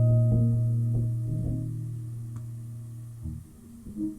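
A dry, effect-free electronic music loop from an ambient album track: steady sustained tonal drone with soft repeating plucked notes on top, quiet and close, no voices.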